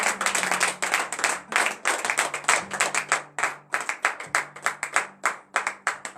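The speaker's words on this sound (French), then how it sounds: "acclame très fort ton Seigneur" A church congregation at a Saturday morning prayer service in Benin claps loudly and rhythmically in acclaim of the Lord, many hands beating a fast, steady pulse throughout with a low sustained tone underneath.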